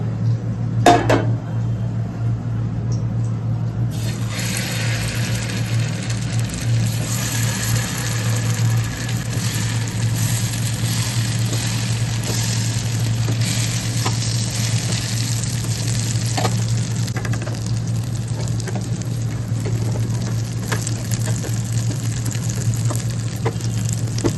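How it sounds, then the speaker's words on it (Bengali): Chhana fritters (bora) fry in hot oil in a pan, with a loud, continuous close-up sizzle and occasional clinks of a utensil against the pan. A low steady hum sits underneath and nobody speaks. "আর আমি এবার এই বড়াগুলোকে ভেজে নেব।"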